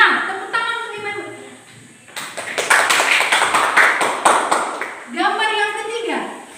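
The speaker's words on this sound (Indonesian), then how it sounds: "Tepuk tangan untuk Immanuel" Students in a classroom break into a burst of clapping lasting a few seconds, a dense patter of many hands, framed by a voice talking before and after.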